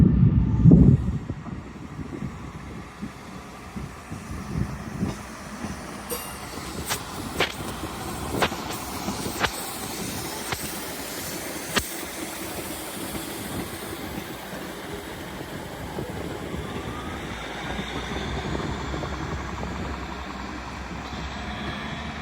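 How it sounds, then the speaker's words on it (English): A Class 158 diesel multiple unit pulls out of Doncaster station on the East Coast Main Line, its engine rumble and rolling wheels sustained and fairly close, with clicks and brief sharp bangs along the way. "Departing now is 158-812, working service starting at Doncaster, heading to Peterborough via Lincoln Central"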